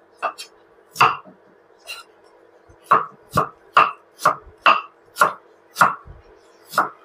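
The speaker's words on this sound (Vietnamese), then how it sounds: "Gừng thì mình xắt nhỏ nhỏ ra, lắc mình đâm nha." A series of heavy, hollow thuds at an irregular pace as finely chopped ginger is pounded in a mortar, close by with a faint hum underneath.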